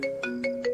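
A phone ringtone plays a short repeating electronic melody of tonal beeps, clear and close.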